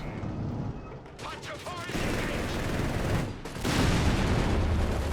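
Mortar fire thumps amid a Company of Heroes 3 battle, heavy low booms and dense rumbling gunfire in a constant wartime din, with a pair of louder surges near the middle and end.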